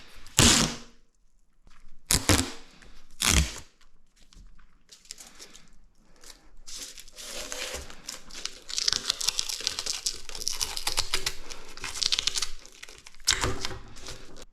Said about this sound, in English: And now, the gaffer tape.